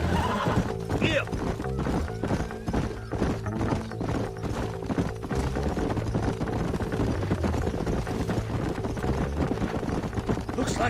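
Horses in the video game Red Dead Redemption, with steady clip-clopping hooves and loud whinnies over a busy game soundscape.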